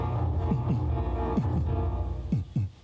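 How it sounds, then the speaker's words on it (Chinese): A dubbed heartbeat sound effect during a variety-show magic act: several deep, throbbing lub-dub pulses in pairs over a low background hum, fairly close and moderately loud. "哎呦，心跳声， 好可怕哦！"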